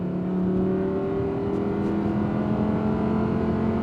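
An Audi R8 Performance engine revs steadily in third gear toward 7,000 RPM, a sustained rising drone with strong low harmonics, close and loud, with no talking.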